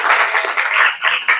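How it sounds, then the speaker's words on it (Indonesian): Classroom applause, a short burst of close, bright clapping from a group of students, brisk and uneven. "Tepuk tangan buat Rehan"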